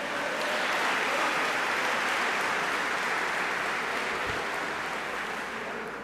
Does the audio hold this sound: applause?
yes